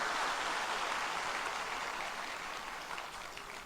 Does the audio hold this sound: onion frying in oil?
no